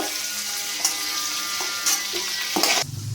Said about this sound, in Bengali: এখানে আমি প্রথমে চিংড়ি মাছগুলোকে আমি ভেজে নেব।